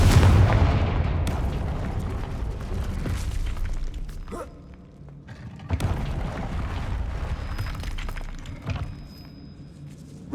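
Repeated Confringo fire-blast spells in the video game Hogwarts Legacy, loud booming explosions rolling into a sustained rumble, with a second heavy blast breaking out partway through.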